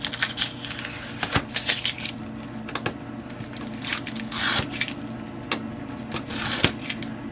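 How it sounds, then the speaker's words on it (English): Tape being peeled off a painted wooden Christmas hymn ornament and sign, heard as a run of scattered soft crackles, rubs and ticks, close and fairly quiet, with no talk over it. "we're going to take the tape off of this one."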